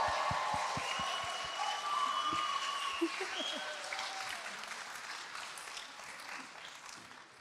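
An audience at a family nativity show claps for the helpers and angel stagehands. A few loud early claps stand out, then dense applause fades gradually as a voice speaks over it.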